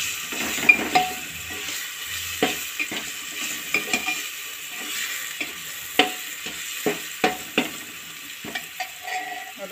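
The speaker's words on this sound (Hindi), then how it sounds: "और इसमें हम टमाटर डाल देंगे।" Tomatoes frying in a hot pan with turmeric for palak moong dal: a soft sizzle runs under repeated scraping and stirring strokes, with occasional light clinks of a spoon against the pan.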